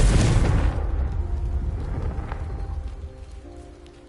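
A Confringo blasting spell bursts in Hogwarts Legacy with one loud, deep boom at the start, then a long rumbling decay that slowly fades under faint game ambience.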